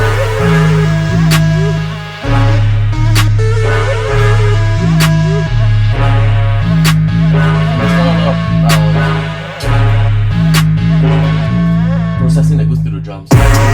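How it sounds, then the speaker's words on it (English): A loud drum kit beat built in FL Studio for a K-pop-style track thumps with booming sub-bass kicks and snappy hits, layered over synth notes, dropping out briefly twice before pressing on. "But anyways, it sounds like this with the drums."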